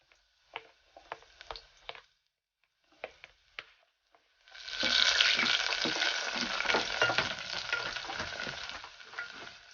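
Garlic and ginger hit a hot pan and frying erupts midway, a steady dense sizzle that stays loud to the end, after several sharp taps and clinks of utensils against the pan in the first seconds.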